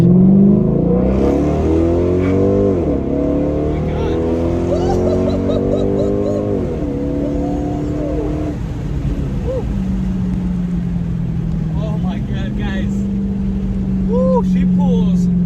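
A truck engine running a DiabloSport Trinity T2 tune pulls hard down a straightaway, revving up through several shifts with rising and dropping tones before settling into a steady cruise drone, heard loud from inside the cab.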